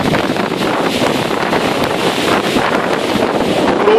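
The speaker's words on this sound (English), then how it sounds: "Absolutely windy." Strong wind buffeting the microphone outdoors during flooding in Somerset, a loud, continuous roar and rumble with no let-up.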